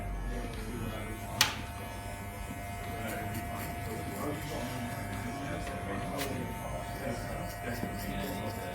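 An electric foil shaver buzzes steadily close by while fading hair on a head, with one sharp click early on, and a person talks over it.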